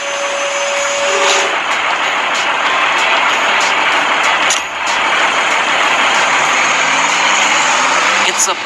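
A wheel loader, a heavy construction machine, runs with its bucket raised, giving a loud, continuous engine and hydraulic roar that stays close and steady, with a short dip near the middle.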